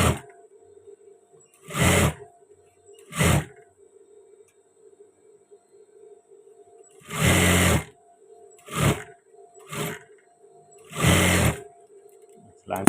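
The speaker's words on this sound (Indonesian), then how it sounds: "sekarang saya akan menjahit pas bagian kerah" A sewing machine stitches the collar of a men's shirt in short separate runs, each a loud buzzing whir lasting about a second, with quiet gaps between them and a faint steady hum throughout.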